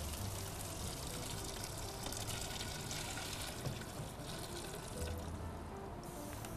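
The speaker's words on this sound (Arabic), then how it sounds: "ننزل عليه الماء الحار." Hot water is poured into a cooking pot in a kitchen, a faint, continuous splashing rush that stays even from start to finish.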